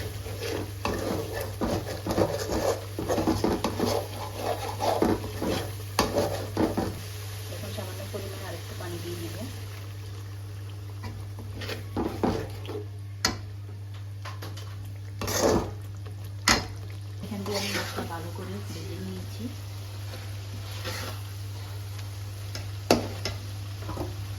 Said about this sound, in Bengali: এখন ভালো করে মশলা কষিয়ে নেব